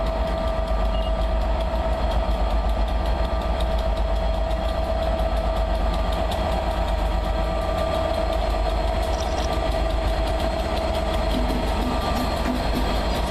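A loco-hauled passenger train's locomotive drones steadily and loudly, with a constant engine hum and faint rail clatter running throughout, no voices.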